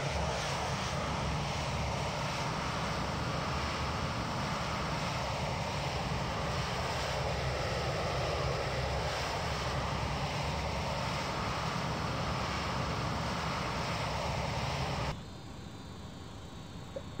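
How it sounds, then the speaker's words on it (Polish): McDonnell Douglas MD-82 jet engines in the X-Plane 11 flight simulator, heard from outside the aircraft as a loud, steady roar that runs on unbroken and then drops abruptly quieter near the end. "Samolot z zewnątrz, tylko informuję, że będzie na pewno głośniej."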